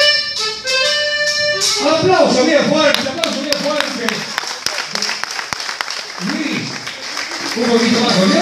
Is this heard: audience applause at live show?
yes